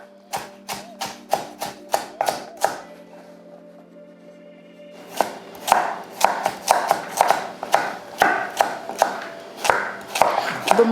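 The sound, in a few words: knife chopping vegetables for chicken soup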